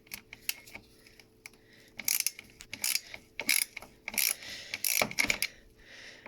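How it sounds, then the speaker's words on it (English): A ratchet turns a T25 Torx bit in the engine bay of a BMW E46 330 Ci, giving quick bursts of close, crisp clicking with short pauses between strokes. "So I'm going to use the T25 Torx"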